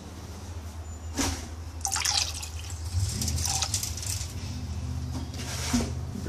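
Filtered homebrew liquid made from a Gerber baby food wash pours into a glass, with splashing and trickling that rises in pitch as the glass fills, close and fairly quiet.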